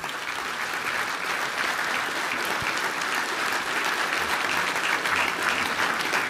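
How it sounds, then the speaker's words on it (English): Steady applause from a forum audience thanks a military panel, a dense even wash of clapping that holds at moderate distance throughout. "please join me in a round of applause for this panel"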